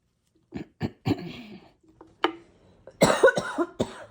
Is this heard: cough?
yes